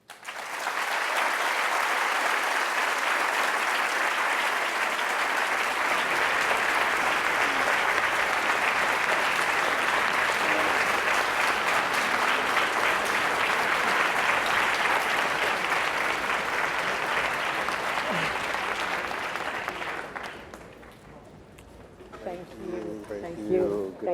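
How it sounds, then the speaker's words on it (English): Sustained audience applause fills the room after a keynote speech to a Washington, D.C. public school gathering, loud and steady for about twenty seconds before fading out, with voices emerging as it dies down. "Please join me in giving Dr. Cantor another round of applause"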